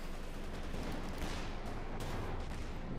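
Anti-tank gun fire pounding a Panther tank in Company of Heroes 2, a dense, continuous barrage of overlapping gunshots and explosions that stays loud and steady throughout with no pause.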